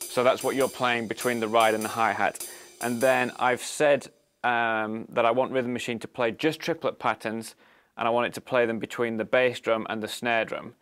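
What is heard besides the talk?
None of the usual background noises is heard.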